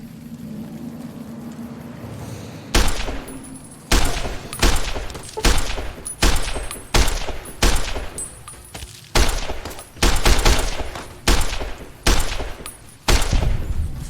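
Repeated loud gunshots ring out in a Fallout New Vegas gunfight, about a dozen sharp bursts at uneven intervals over a low ambient hum, close and dominant with no talking.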